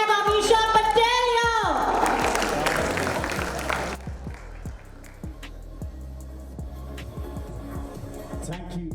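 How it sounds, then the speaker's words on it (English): Audience applause and cheering at an Indian awards ceremony honoring actress Ameesha Patel, a loud crowd roar that drops off partway through, leaving scattered claps under music and background chatter. "Can I have a huge, huge round of applause, ladies and gentlemen?"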